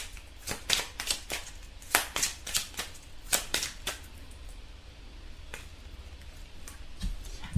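A deck of oracle cards riffled and tapped in a quick run of crisp, close snaps, then a lone card drawn with a soft flick near the end, with no talking.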